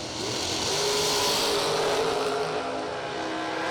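Drag race cars roaring down the strip during second-round eliminations of a $100,000 dragster race, a loud sustained engine howl that holds steady and fades slightly at the end, with no talk.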